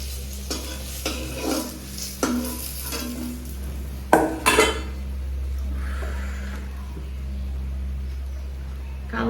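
Dishes scrubbed by hand outdoors in a village with water drawn from a hand-pumped tubewell: repeated scraping and clattering of metal utensils, splashes, a sharp clank midway, over a steady low hum.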